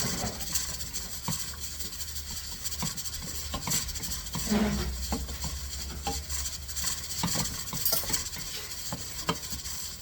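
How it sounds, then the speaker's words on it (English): Duchess potatoes being stirred as butter melts into them, with a steady close scraping and rubbing of a utensil through the thick mash against the pot, continuous with soft clicks and no talk. "you're going to keep on stirring until the butter is completely melted in here"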